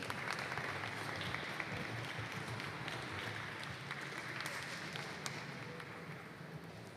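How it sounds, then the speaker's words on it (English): Steady audience applause at a glassblowing hot shop demonstration, sustained dense clapping from a crowd at moderate distance, with no talking. "let's give them a round of applause for all their hard work"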